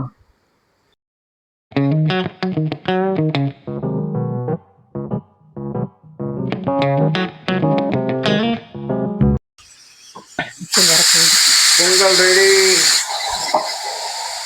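After a stretch of voice and music, a grinder motor kicks in with a loud, steady whirring hiss as vada batter is ground in a home kitchen.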